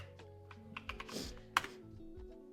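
Fingers tap keys on a computer keyboard in a quick, irregular patter of soft clicks, one sharper keystroke standing out, faint and close with a low background hum.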